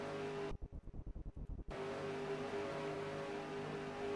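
Race cars in a Roblox NASCAR-style video game drone at a steady high engine pitch, cut briefly by a stuttering, choppy burst before the continuous loud roar resumes.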